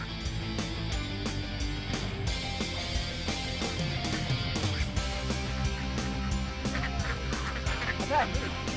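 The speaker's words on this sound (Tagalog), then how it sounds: "O magpalipas oras kasama ng mga pato." Ducks quack at Caliraya Mountain Resort in Laguna, their calls blending into a dense, steady background of other sound that runs the whole time.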